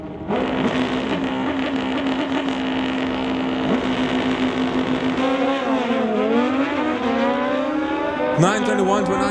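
A Suzuki drag-racing motorcycle at a bike drags event, engine screaming at high revs in a sustained loud roar with rising and falling pitch near the end, heard under commentary.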